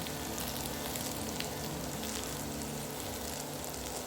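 Cumin and fennel seeds fry in hot oil for a Chettinad crab masala, giving a steady, soft sizzle that crackles without pause, with no talking.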